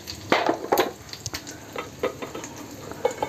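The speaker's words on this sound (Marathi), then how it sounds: "तेल तापत आले, मी आता थोडीशी अगदी पाव चमचा मोहरी, पाव चमचा जिरं, थोडासा चिमूटभर हिंग" Mustard seeds, cumin and asafoetida sizzle in hot oil in a pan, a steady crackle broken by sharp pops and the scrape of stirring, with no talk.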